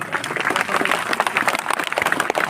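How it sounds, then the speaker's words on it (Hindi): Audience applause at a Shrimad Bhagavat Katha religious discourse, a dense burst of many hands clapping together for a couple of seconds, fairly loud and close. "एक बार उनके लिए पहले ताली की सेवा करो।"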